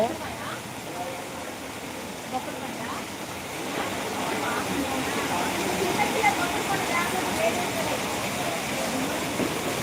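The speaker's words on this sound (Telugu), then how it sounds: "వర్షం పడుతుంది" Steady, dense rush of heavy rain in Suryapet, a continuous broadband hiss that swells slightly louder partway through, with no clear voices.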